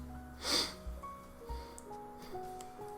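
A person blows their nose in one short, sharp burst near the start, followed by a few soft rustles and sniffs.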